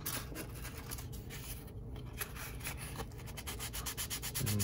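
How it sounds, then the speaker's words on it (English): A file rasping over soft material on an HO scale steam engine kit chassis, making steady, gentle rubbing strokes up close with no speech. "So when you're filing a soft material like this, you want to be a little more gentle."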